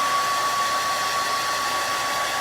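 A hair dryer blows steadily and loudly, drying paint on a vinyl Easter sign, with a constant, unbroken whoosh and no talking.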